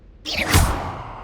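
An Accio summoning spell whooshes in Hogwarts Legacy, a single airy swoosh that swells quickly, peaks, then trails off, heard close and alone.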